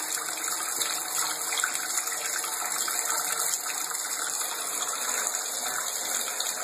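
Water gushes hard and steadily from a tap after a gas water heater repair. The rush is loud and even, with no pauses and no voices, and lasts for several seconds.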